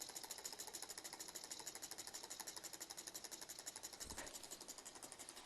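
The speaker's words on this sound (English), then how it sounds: "When you want to stop it, you just blow out the flame, and it'll slowly run down as this chamber cools off." A small hot-air Stirling engine toy runs on after its flame is blown out, giving a steady, fast mechanical clicking and whirring rhythm close by, with no talk over it.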